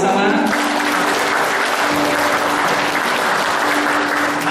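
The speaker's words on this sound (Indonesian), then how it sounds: "Berikan tepukan sama-sama." A church wedding congregation bursts into sustained applause after the blessing of the marriage, a dense, steady wash of clapping that fills the room, with faint voices mixed in.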